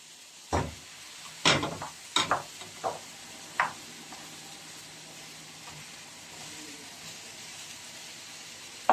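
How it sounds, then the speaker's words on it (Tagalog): Chicken sautéing in a pan for chicken afritada, with several sharp clattering stirs and scrapes early on over a faint, steady low sizzle. "Lalagay ko na po ang ating chicken para masangkot siya."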